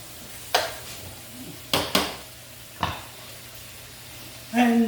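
Chicken scarpariello with rosemary cooks in a pan: a low, steady sizzle runs underneath, broken by a few sharp clanks and scrapes of a utensil against the pan, and a louder burst near the end.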